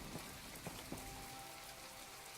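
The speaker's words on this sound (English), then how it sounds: "it's raining outside" Rain falls steadily outside in My Time At Portia, a soft, even hiss of drops with a few faint taps, heard alone at low volume.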